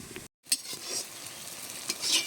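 Palm fruit fritters (taler bora) deep fry in oil with a quiet, even sizzle, interrupted by a brief dropout and a few scraping stirring strokes, nearby and without speech.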